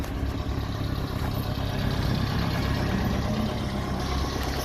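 A John Deere minitruck engine idles nearby with a steady low rumble and faint rhythmic pulsing, holding an even level throughout without revving or voices.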